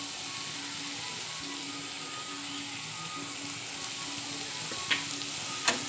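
A chutney with green masala, turmeric and salt frying in a pan, a steady low sizzle with a faint hum beneath and a couple of sharp spoon clicks near the end as it is stirred, with no speech.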